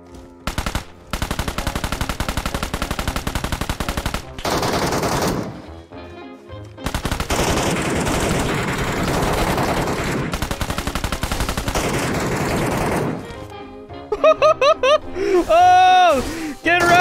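An SF Honey Badger fires in Metro Royale in loud, rapid automatic bursts broken by short pauses, ending with scattered shots, with voices talking during the firing.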